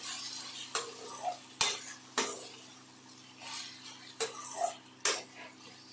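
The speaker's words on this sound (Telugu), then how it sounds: "15 నిమిషాల వరకు ఇట్లాగా మగ్గనివ్వాలి టమోటాలని" Tomatoes with a few garlic cloves softening in a pan for a red chilli tomato pickle, with a series of scraping stirs and utensil knocks against the pan over a low background hum.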